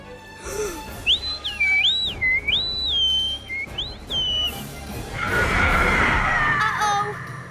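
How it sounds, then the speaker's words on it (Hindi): In a Dino Ranch cartoon, a shrill whistle sounds in a quick series of warbling blasts that glide up and down in pitch. A noisy screeching burst with chirpy squeals follows. "लगता है उन्होंने तुम्हारी सीटी भी सुन ली।"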